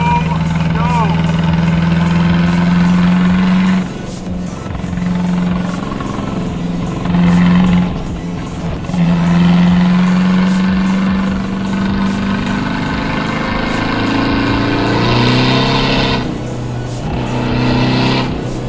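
A loud modified diesel TDI engine revs and pulls hard from 30 to 70, pitch climbing steadily as the car accelerates, with a voice speaking over the drone.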